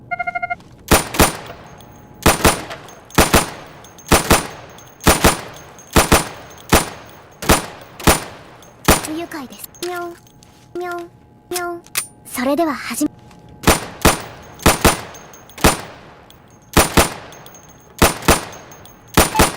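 Sharp single and paired gunshots hitting training targets in the video game Insurgency, loud evenly spaced cracks across the range with a short gap of electronic beeps and tones midway.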